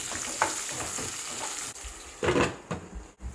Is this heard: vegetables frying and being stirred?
yes